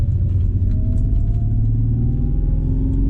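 A deep engine roars steadily in a Bentley Continental GT, its pitch climbing gradually as the car accelerates hard, loud and close throughout with no voices.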